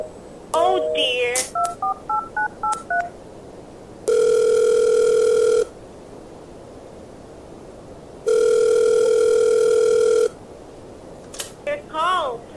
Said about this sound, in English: Operator, I've been dialing Murray Hill 40098 now for the last 3/4 of an hour.